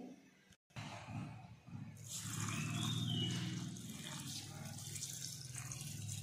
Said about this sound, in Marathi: स्वच्छ पाण्याने तांदूळ धुवून घेते.